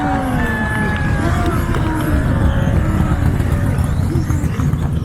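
Electric Tekno EB48 2.0 RC buggies race in an EBuggy A-main final, their high whining motors sweeping up and down continuously over crowd noise and voices.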